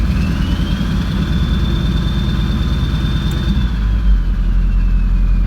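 A Ford 7.3 Powerstroke diesel engine holds a steady high idle, giving a loud, continuous, close-up rumbling drone with a thin whine running over it and no speech.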